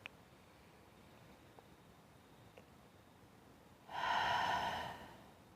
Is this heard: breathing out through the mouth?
yes